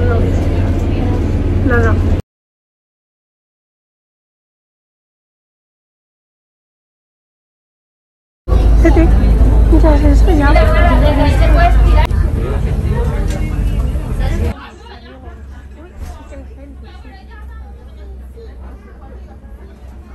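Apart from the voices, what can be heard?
inside a bus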